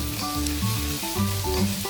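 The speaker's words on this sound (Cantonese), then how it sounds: "而家我哋將鐵鑊保持中火，加入蒜頭、洋蔥爆香。" Garlic and onion sizzle steadily in an iron wok over medium heat, a close, continuous frying crackle with light stirring and no talk.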